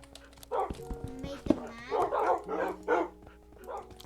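Minecraft wolves whimpering and barking in repeated short bursts among game noises, close by, with a voice talking over them at times.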